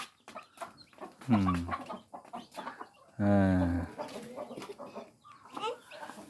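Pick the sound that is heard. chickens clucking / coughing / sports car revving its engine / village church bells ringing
chickens clucking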